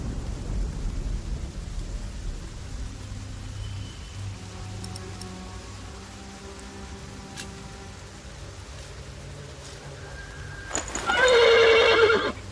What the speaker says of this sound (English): The horse nearly woke the guard.